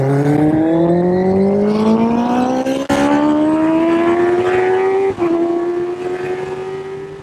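A Honda CBR-1000RR motorbike engine powering an MK car screams at very high revs on a track, climbing steadily through the gears with brief dips at each shift, loud and close with no talk.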